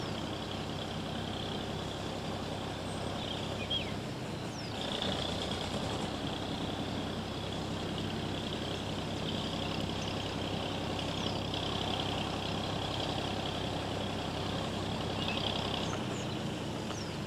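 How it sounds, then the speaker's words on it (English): Pump engine chugging steadily beside a trout fishing water as a digger driver is about to shut it off, a faint, continuous low mechanical drone running throughout with no voices. "looks like old George the digger driver's going to turn the pump off in a minute"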